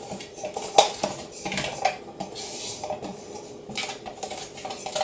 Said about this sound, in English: you can use sunflower oil to grease the pan